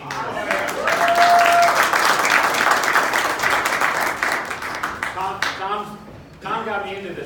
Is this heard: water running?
no